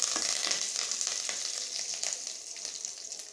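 Curry leaves frying in hot oil for a tricolour chutney, a steady close crackling sizzle with light stirring scrapes, fading slightly over a few seconds.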